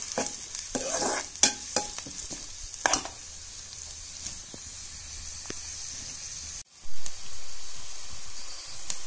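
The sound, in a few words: onion frying and being stirred in a pan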